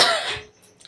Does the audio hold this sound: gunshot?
no